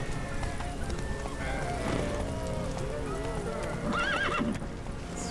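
Roach the horse in The Witcher 3: Wild Hunt neighs and whinnies with rising, wavering calls over the steady clatter of hooves, while someone talks over the game sounds.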